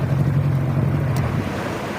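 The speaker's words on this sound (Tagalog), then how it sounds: "Ayun, may alon yan ha." Sea waves washing around a patrol boat at sea, a steady loud rush of water and wind buffeting with a low drone underneath, no talk.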